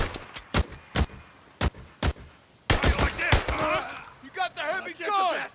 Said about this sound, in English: You got the heavy gun!